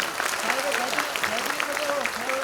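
Audience clapping steadily at a school annual day event to welcome a guest who has argued cases in the Supreme Court, dense and sustained throughout with a faint tonal sound running underneath.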